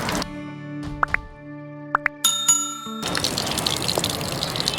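Thin electronic tones give way to a sudden rush of water gushing and splashing steadily for the last couple of seconds.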